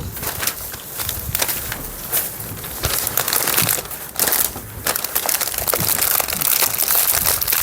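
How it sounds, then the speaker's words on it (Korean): Plastic film crinkling and crackling steadily as it is wrapped around sunflower bouquets for a bulk flower order, loud and close with dense rustling bursts and no talk. "그리고 비닐까지 덮어서"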